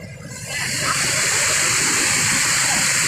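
Loud, steady roar of water rushing out through a controlled outlet at the Kansabati dam, building within half a second into a constant broadband torrent heard up close.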